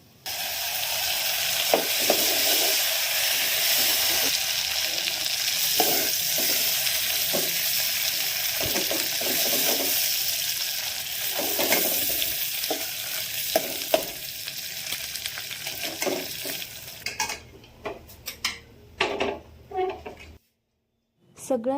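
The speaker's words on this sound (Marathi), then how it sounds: "हे छान सगळं परतून घेतलं की थोडंसं वरतून पाणी घालायचं" Filling mixture for dind stir-fried in a pan: a steady, loud sizzle with repeated scraping stirs for most of the stretch, then thinning into scattered clatters and short bursts near the end.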